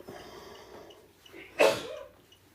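A single sharp sneeze bursts out partway through a quiet dark room during a night-time paranormal investigation, preceded by faint rustling and followed by a short trailing breath.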